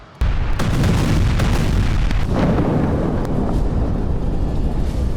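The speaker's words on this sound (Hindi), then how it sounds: "दूसरा विस्फोट," An airstrike explosion in Gaza sets off a sudden, heavy boom that rolls on as a long, loud rumble, with no voices present.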